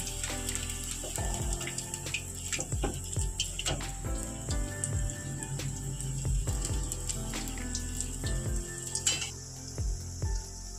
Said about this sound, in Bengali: সমস্ত পকোড়াগুলো ভেজে নিচ্ছি